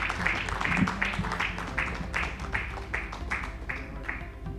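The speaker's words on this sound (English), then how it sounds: "please help me invite, with a huge round of applause, Dr. Alka Mittal." An audience at a human resources conference keynote claps in a slow, steady rhythm of evenly spaced beats, fairly faint and distant in a large hall.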